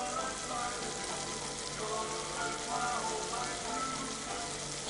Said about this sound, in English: There's bacon in here, but this bacon has to fry. It has to get nice and crispy.